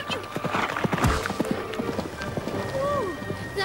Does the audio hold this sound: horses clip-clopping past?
yes